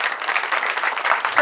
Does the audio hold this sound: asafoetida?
no